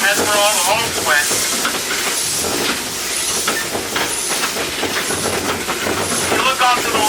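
The Cripple Creek railroad locomotive running, with a constant rumbling, hissing roll of the train, rhythmic clatter and occasional squeals, loud and close, with a voice speaking over it.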